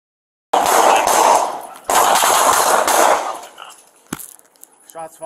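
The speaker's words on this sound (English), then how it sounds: "We have shots fired." Gunfire erupts during a police encounter with an armed suspect in a Los Angeles alley: two loud, rapid bursts of shots close by, then a sharp single crack and scattered fainter noises.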